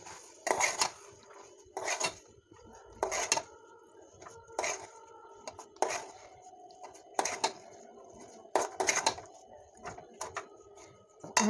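Spiced potato filling for aloo kachori is stirred in a pan with the gas flame turned off. A utensil scrapes and clinks against the pan in a steady pattern of roughly one stroke per second, close and moderately quiet.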